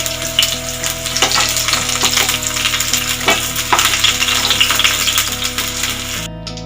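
Pointed gourd pieces frying in oil in a pan, a loud, dense close sizzle with scattered spatter pops and occasional utensil clinks, running steadily until the sound cuts off at the end.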